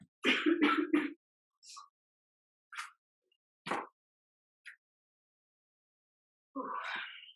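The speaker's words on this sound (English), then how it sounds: "My body does not like coughing upside down" Several coughs from one person nearby: a quick burst of hacking at first, then single coughs spaced out over the following seconds.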